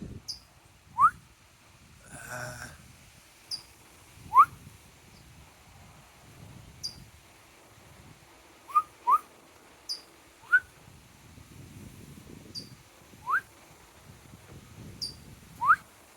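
A small bird outdoors gives short, sharp whistled chirps, single or in quick pairs, spaced irregularly over a quiet background with faint rustling. The calls are fairly close and clear, and nobody speaks.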